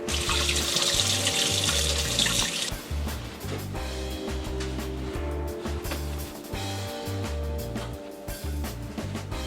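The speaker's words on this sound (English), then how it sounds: "We're gonna rinse these duck legs in cold water and pat dry under a paper towel." Cold tap water runs steadily over raw duck legs being rinsed in a kitchen sink, a loud hiss and splash that dominates the first few seconds and then continues more unevenly with clattering handling.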